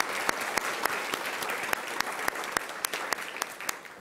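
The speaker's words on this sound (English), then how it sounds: "So big round of applause to you" Steady applause for a student at a school board meeting, a moderate crowd clapping continuously with several sharp, distinct claps standing out regularly over the even patter.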